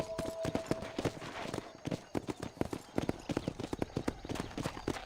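Horse hooves trotting in the video game Red Dead Redemption, a brisk, even clip-clop close by that continues throughout.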